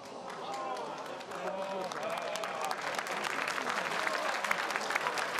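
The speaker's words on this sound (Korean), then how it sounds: "자 양당 모두 박수를 치고 있는 그런 상황인데" Party members at election-night gatherings applaud as presidential exit poll results are announced, a dense sustained round of clapping from a crowd, steady and loud throughout with voices mixed in.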